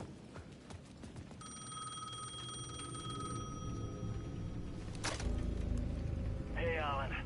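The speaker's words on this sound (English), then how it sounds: "payphone at the edge of the plaza was ringing again" A payphone at the edge of a plaza rings in the horror game Alan Wake 2, a steady electronic trill sustained over a noisy game background of ambience and rumbling, with a sharper burst near the end.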